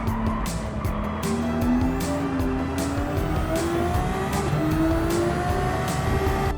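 Genesis VGT race car in Gran Turismo 7 during an online time trial at Circuit de Saint Croix, its engine note rising and falling steadily through gear changes, loud and close with brief tire squeal and no talk.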